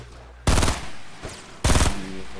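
A minigun firing in Fortnite, two separate loud close bursts of rapid automatic fire, each lasting about a third of a second, with a short pause between them.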